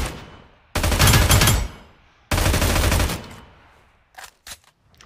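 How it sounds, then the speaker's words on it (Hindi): Automatic gunfire while scoped in during the video game New State, two loud, long bursts of rapid shots, each trailing off, followed by a few short, quieter shots at the end. "इसमें बस क्राउच नहीं करना है आपको, हेड पे स्कोप ओपन करके फायर करना है"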